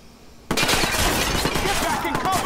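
Gunfire in the Watch Dogs video game, a loud sustained burst of shots and shattering impacts that starts abruptly after a moment of quiet and rolls on continuously, with a voice faintly under the din.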